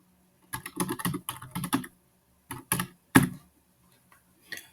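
Quiet computer keyboard typing, short clusters of crisp key clicks with brief pauses between them, close and alone in a silent room.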